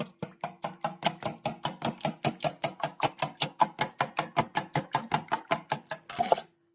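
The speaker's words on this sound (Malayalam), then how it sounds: "ഇനി മുട്ട നന്നായിട്ടൊന്ന് ബീറ്റ് ചെയ്യണം." Two eggs being beaten by hand for French toast, a steady fast rhythm of about thirty sharp clinking whisk or fork strokes against a bowl, close and clear, ending with a brief scrape.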